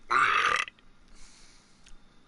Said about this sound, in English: no, not the belch